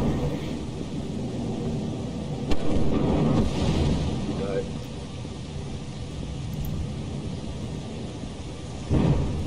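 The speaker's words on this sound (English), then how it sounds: "I got struck by lightning before I could even get in." Thunder from a lightning storm in the video game Lethal Company, a low continuous rumble with a sharp crack partway through and another loud burst near the end, over steady rain-like noise.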